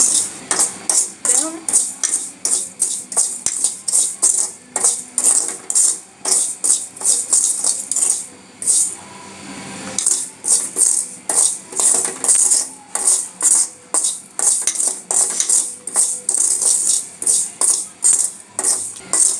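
Black cumin seeds dry-roasting in a pan give off a loud, steady run of rapid rattling and clinking as the seeds are stirred and shaken against the metal, in repeated bursts with brief pauses.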